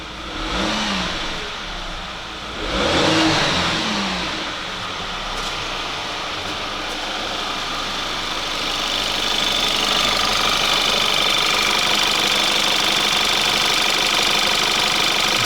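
A rebuilt Audi Q5 2.0 TFSI engine runs, with a couple of rises in revs early on before it settles into a steady, fairly loud drone that builds slightly toward the end.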